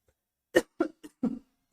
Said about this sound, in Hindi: खांसी बहुत ज्यादा आ रहा है, पता नहीं।